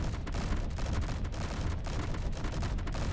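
Dense, continuous turret gunfire from the Space Engineers video game, a steady rapid barrage of shots rattling on loudly for the whole stretch with no talk over it.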